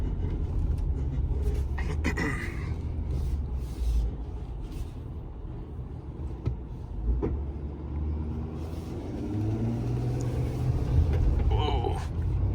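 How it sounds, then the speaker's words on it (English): A 2019 Ford F-450 Limited pickup towing a 41,000 lb combined load spins its tires, a steady loud engine and road rumble with scrubbing noise throughout while people talk over it. "Even spinning the tires trying to get that load moving."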